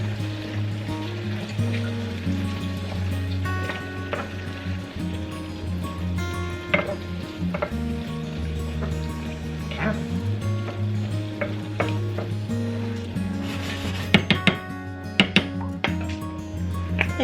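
Minced onions stirred in a hot frying pan, with a constant sizzle under repeated scrapes of a utensil and a few clinks against the pan toward the end.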